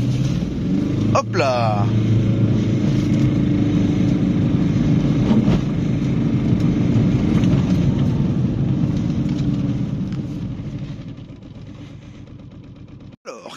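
A 2022 Aixam GTO microcar accelerates in a drag race: a loud, steady engine drone for about twelve seconds that eases off near the end. A voice calls out briefly near the start.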